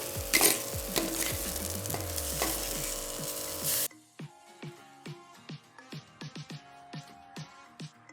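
Potato frying in a pan for a cheese roll filling, a loud hissing sizzle that cuts off abruptly halfway, followed by sparse clinks and scrapes of stirring.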